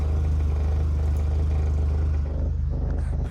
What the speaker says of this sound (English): The exhaust system has also developed a really annoying rattle.